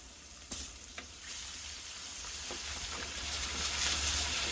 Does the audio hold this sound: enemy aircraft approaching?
no